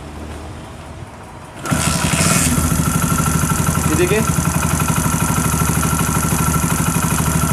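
A freshly rebuilt Honda CD100 motorcycle engine starts abruptly, then settles into a loud, close, steady idle with even rapid clatter, while someone speaks briefly over it.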